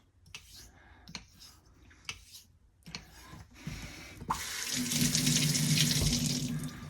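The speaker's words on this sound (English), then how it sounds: "Rinse the slurry off." Tap water runs steadily and loudly into a sink as slurry is rinsed off a Thiers-Issard straight razor, the flow starting after a few soft clicks and handling sounds and continuing to the end.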